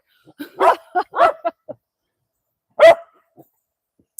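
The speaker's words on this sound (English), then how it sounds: "That dog can bark." A pet dog barks in a quick burst of four or five sharp, close barks, then pauses and lets out one more loud bark, alone indoors.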